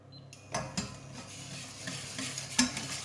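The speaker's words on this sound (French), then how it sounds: "Et tout du long, je vais bien brasser pour pas que ça attache au fond." Lemon curd being stirred in a pot on a stovetop over low heat for a lemon tart, a soft scraping swirl with a few brief clinks of utensil against pan, fairly quiet and close, no voices.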